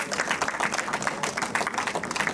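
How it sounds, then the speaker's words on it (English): Audience applause at a festival conversation event, a steady wash of many hands clapping close and fairly loud for the full stretch, with no one speaking over it. "So maybe we have a round of applause."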